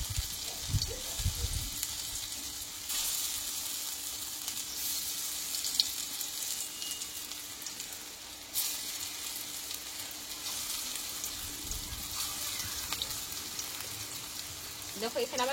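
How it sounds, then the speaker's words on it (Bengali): Lentil and pointed gourd fritters fry in a small amount of oil, giving a steady close sizzle with crackling that holds throughout, with brief stirring noises and no talk. "এই বড়াগুলো মোট আমি 3 বারে ভেজে নিলাম"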